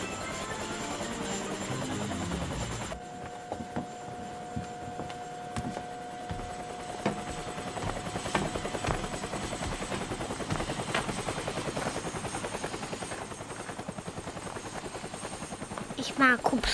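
A helicopter flies in the German-dubbed Teletubbies children's show, its rotor giving a continuous, fairly loud chopping drone that runs steadily throughout, with a rising whine early on.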